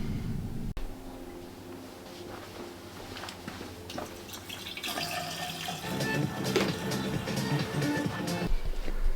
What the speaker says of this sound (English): we'll probably fill it up with coolant and bleed it.